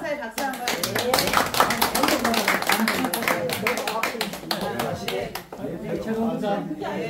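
A lecture audience claps steadily for several seconds, a dense burst of applause that tapers briefly near the end before picking up again.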